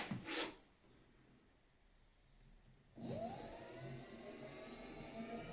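A Swytch e-bike conversion front hub motor, driven by the pedal sensor, stays quiet after a brief knock, then spins up with a rising electric whine that settles into a steady hum with faint mechanical hiss.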